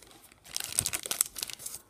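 Trading card booster packs from a Sun-era booster box being cut open: faint, close crinkly foil tearing and crumpling in short bursts, with no talk.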